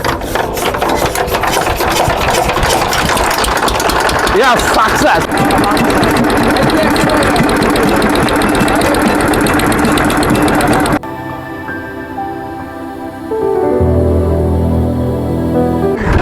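A hired river boat's engine in Barishal runs with a loud, steady mechanical chatter close by, then its tone changes to a lower, throbbing run for the last few seconds.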